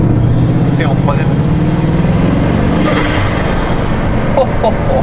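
Bugatti Chiron Super Sport engine pulling hard under acceleration in third gear, a loud, dense roar with a rising whine throughout, while an occupant talks over it.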